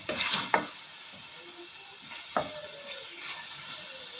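Chicken pieces fry in a hot pan under a steady close hiss and sizzle, with two sharp utensil scrapes and clinks as it is stirred.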